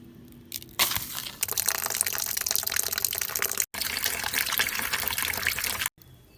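Stone sand being rinsed under running water while prepared for a glass terrarium, a steady loud gushing and splashing that starts after a quiet moment, continues evenly, and cuts off briefly twice.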